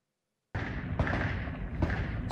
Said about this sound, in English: So you can hear the sounds of gunshot in the distance